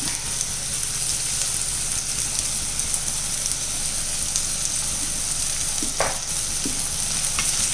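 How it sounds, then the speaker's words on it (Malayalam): Sliced onions fry with salt in a pan for fried chicken rice, a loud, constant sizzle and crackle with a couple of brief scraping stirs near the end. "നമുക്ക് സവാളയിലേക്ക് ഉപ്പിട്ട് കൊടുക്കാം"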